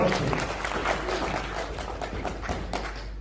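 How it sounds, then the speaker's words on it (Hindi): Audience at a training session clapping strongly, a continuous patter of many hands at moderate loudness that stays steady throughout, with a voice briefly heard over it. "बहुत खूब, जोरदार तालियां सुनमोल के लिए"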